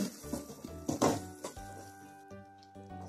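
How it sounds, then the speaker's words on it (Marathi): A spoon stirs tomato chutney in a pan just after coriander goes in, quick scraping clinks and soft sizzles in short bursts over about three seconds, close by. "आता यामध्ये टाकू थोडी कोथिंबीर आणि मिक्स करून घेऊ आणि गॅस ऑफ करू"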